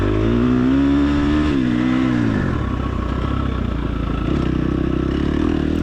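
A motorcycle races around a hot, dusty dirt track, its engine revving loudly and close, pitch rising then dropping as the rider backs off and brakes into a corner, with steady rough engine drone throughout.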